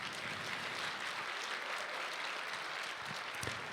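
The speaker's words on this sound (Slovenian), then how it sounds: "En aplavz, prosim." Audience applause fills the hall at a school graduation dance in Tolmin after an English waltz, a steady wash of clapping from many hands throughout, with no talk over it.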